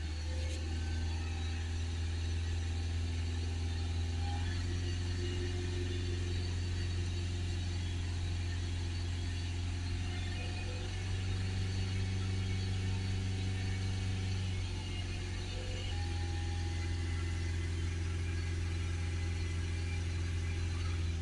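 A Ford Transit MK8 2.2 diesel van engine runs steadily at raised revs, a continuous droning hum with slight shifts in pitch, close and constant throughout.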